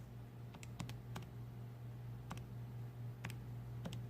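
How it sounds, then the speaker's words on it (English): Keys pressed on a graphing calculator while an equation is entered, a few faint, sparse clicks at irregular intervals over a low steady hum in a quiet room. "I'm going to type in my original problem for x"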